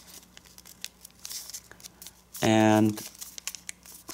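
Paper being folded and creased for an origami dragon, soft crinkles and rustles scattered around a brief spoken word, with one louder tonal sound in the middle.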